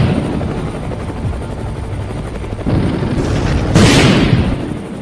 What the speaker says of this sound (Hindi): इस बार रोबोट ने अपनी पूरी ताकत से उस हेलीकॉप्टर पर फायर कर दिया।